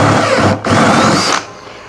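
A power drill fitted with a 1.5-inch Forstner bit starts boring a counterbore in an A-frame block, giving a loud, close whine that cuts out briefly, resumes, then winds down.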